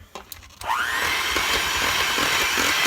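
An electric hand mixer starts up after a few faint knocks and whirs steadily and loudly through pumpkin coffee cake batter with pumpkin pie spice and baking soda, its motor whine holding constant to the end.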